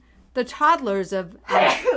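A single sharp sneeze bursts out right after a man finishes a few words of speech, close to the microphone and brief.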